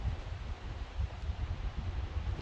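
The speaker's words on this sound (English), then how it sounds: "really windy" Strong cold wind blows steadily outdoors near trees, a low continuous rumble of gusts buffeting the microphone with no voices.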